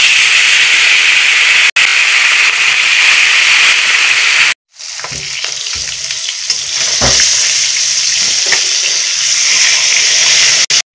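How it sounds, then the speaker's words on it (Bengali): Koi fish fry in very hot oil with a loud, dense, continuous sizzle, broken by a brief silence partway through, then resuming with crackling spatter and occasional scraping, close up. "তেলটা গরম হয়ে গেছে, আমি এবারে মাছগুলো ভেজে নেব।"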